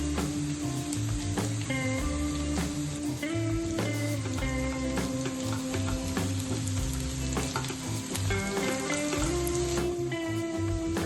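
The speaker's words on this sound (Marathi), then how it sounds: "कांदा आणि लसूण छान परतला" Onion, garlic and finely chopped green chili sizzle steadily in a hot pan, with continuous frying hiss and occasional clinks of stirring.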